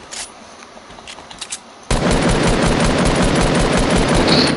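Video game gunfire on a PS4 breaks out suddenly after a quiet stretch, a loud sustained burst of rapid automatic shots that keeps going without a break to the end.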